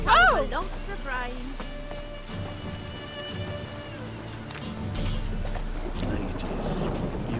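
A thunderstorm in the video game The Witcher 3 sends deep thunder rumbling over a steady hiss of falling rain. A voice briefly speaks near the start.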